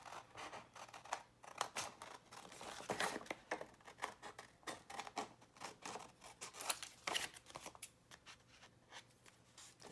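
Scissors snip steadily around a paper element for a handmade sunflower-themed journal, with a run of close, crisp cuts and light paper rustling throughout.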